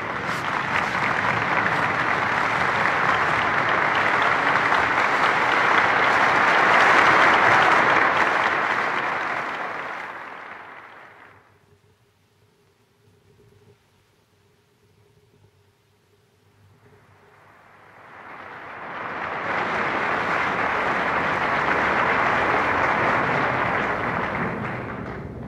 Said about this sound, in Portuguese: Meus senhores e minhas senhoras, de pé, uma salva de palmas a João Vilarês.